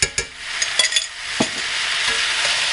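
Mushrooms sautéing in butter over medium heat, a steady close sizzle broken by a few sharp spoon scrapes and stirring knocks early on, settling into continuous frying hiss.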